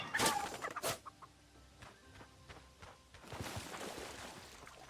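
Chicken clucking in the video game Lens Island, a couple of short bursts near the start followed by quieter scattered game sounds, with no talk.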